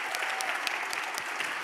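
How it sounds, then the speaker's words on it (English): An audience at an AAPI Heritage Month celebration show claps steadily after the performances, a dense, even wash of applause throughout, loud and close. "please give another round of applause for Tepua Hiohio and all our wonderful performers this evening"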